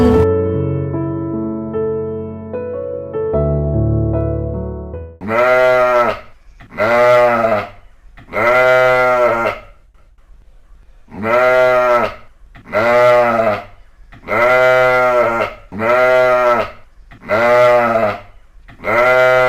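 Goats bleat loudly in a series of about eight separate calls at a steady pace, coming right after a short stretch of music, with no talking.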